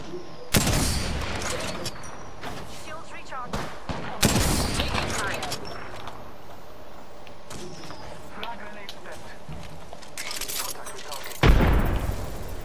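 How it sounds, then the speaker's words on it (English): Gunfire from enemy bots in a ranked shooter match comes as dense, loud bursts of rapid shots with short pauses between volleys, a few heavy impacts among them, and a player talking over the noise. "Bow bots are shooting at me."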